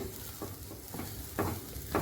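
Green pea filling stirred and fried dry in a pan, soft sizzling under a few scraping stir strokes, close and quiet, no voices.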